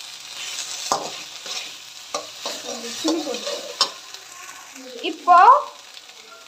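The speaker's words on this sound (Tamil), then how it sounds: "இதை நல்லா வதக்கலாம்." Vegetables stirred with sauce in a pan for veg lollipops: soft sizzling under a series of sharp spatula scrapes and taps at irregular intervals, with a brief voice speaking near the end.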